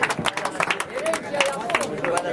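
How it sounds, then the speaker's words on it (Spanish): Crowd clapping and calling out at a greyhound race in Tornquist, cheering the winning dog Heredero from Marcos Juárez; steady applause mixed with shouts and voices, fairly loud and continuous. "Vamos, señores, un fuerte aplauso, muchachos, para el heredero de la ciudad de Marco Juárez"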